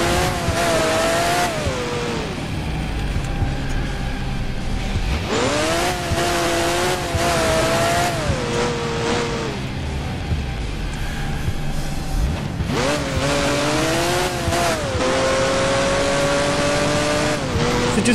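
A racing car engine in the video game Crash Time 2 roars loudly and steadily, rising through gears in repeated revving sweeps with tire squeal and skidding during a street race, and almost no talk.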